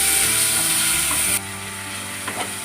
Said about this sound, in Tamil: தக்காளி வெங்காயம் வதக்கலாம் எண்ணெயில்.